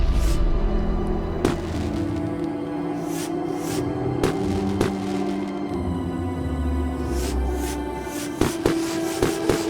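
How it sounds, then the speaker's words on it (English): Booming fireworks in the video game Beacon Pines, a string of sharp bursts and rumbling pops spread across a steady musical backdrop, fairly loud throughout. "All the fireworks."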